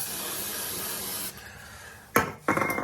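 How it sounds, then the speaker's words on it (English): A sustained spray of adhesive activator hisses for about a second, then stops; afterward come two short scraping rubs against wooden skirting board. "And spray up the other end."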